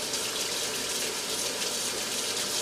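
Hot water runs from a tap while bottles are cleaned of label glue, a dense, continuous gushing hiss, close and steady from start to end, with no speech.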